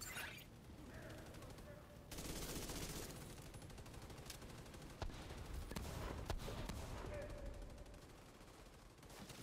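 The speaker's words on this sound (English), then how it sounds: "Was that gunfire?" Gunfire in Tom Clancy's The Division 2, faint bursts of automatic and single shots crackling in the distance beneath game dialogue.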